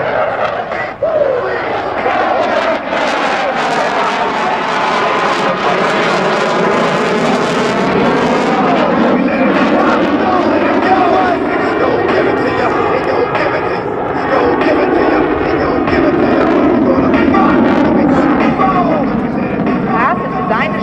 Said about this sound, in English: The remarkable maneuverability of the Hornet. Almost any aircraft can do a normal loop, but very few can perform one like the CF-18.